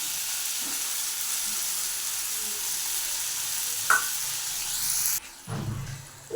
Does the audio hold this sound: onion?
yes